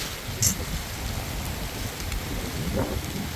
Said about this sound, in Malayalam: നല്ല മഴ നല്ല മഴ.